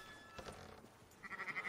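Sheep in the Red Dead Redemption video game bleat faintly in a quiet outdoor game scene, a soft wavering bleat rising near the end, with low game ambience and no talking.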